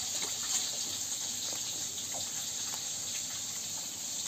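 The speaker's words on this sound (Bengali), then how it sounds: "সবজিগুলো কেটে ধুয়ে নিয়েছি সব।" Steady rush of tap water running into a sink while cut potatoes and ridge gourd are rinsed, a continuous close hiss with no pauses and no talk.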